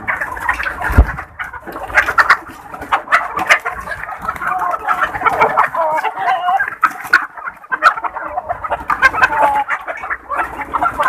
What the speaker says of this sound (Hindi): तो अब हम अपनी इनको प्यारी प्यारी मुर्गियों को खोलते हैं